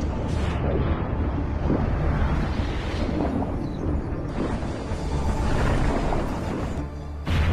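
An Indian ship blown apart by a Ghazi submarine attack in a war film: a loud, sustained rumbling blast with deep booming roar and crackling debris, continuing for several seconds.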